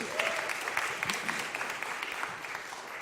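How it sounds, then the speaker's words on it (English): Audience applause for two musicians at a summer community concert; a steady wash of clapping, moderately distant, with a few louder claps standing out. "Yes, one more round of applause for these two."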